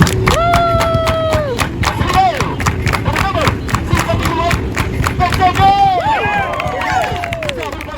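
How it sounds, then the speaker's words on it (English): A crowd claps together in rhythm at a street performance in Times Square, Manhattan. The steady beats sound close, with a performer's voice and crowd chatter over them. "We're gonna all clap."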